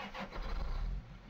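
A John Deere tractor engine cranks and catches in Farming Simulator 17, a brief low rumbling start that swells, then drops back to an idle.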